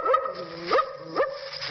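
A radio voice actor imitates a suspicious dog with his voice, giving three short, wary barks with rising yelps, spaced evenly, close and clear with no other talk.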